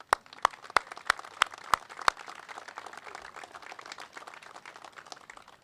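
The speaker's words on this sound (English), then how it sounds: "Let's give them a round of applause." Scattered claps at a press conference, several sharp distinct claps in the first two seconds fading into a soft, thin patter of applause from a small group in a room.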